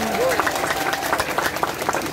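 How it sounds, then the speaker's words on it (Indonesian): An audience claps during a humorous Islamic sermon by a preacher. The applause is steady, dense and moderately loud, with a voice speaking over it throughout. "Tepuk tangan dulu dong."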